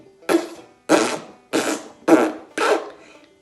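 A voice imitates an ox's fart from a storytelling tale, making five evenly spaced, blubbery bursts, each a short raspy blast that trails off quickly.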